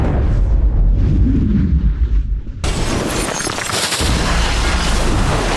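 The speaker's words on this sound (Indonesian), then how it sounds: "Omega pun langsung meledak, dan semua mimik mati tanpa terkecuali." A sudden, powerful explosion bursts in, followed by a sustained roaring blast of noise filling the space, loud and close, from the film Edge of Tomorrow.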